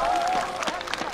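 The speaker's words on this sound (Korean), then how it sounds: "우리 서지호 씨가 박수 한번 주시기 바랍니다" A studio audience on a Korean regional television show claps in a brief, fairly loud round of applause. A voice can be heard at the start of the clapping.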